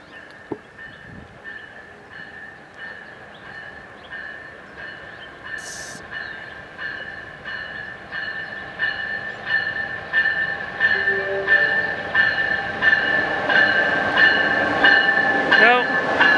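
Amtrak-style passenger train led by an ALC-42 locomotive passing in Simi Valley, rumbling louder as it nears, with a steady tonal whine, rhythmic wheel clatter over rail joints and a brief horn-like burst, voices faintly under it.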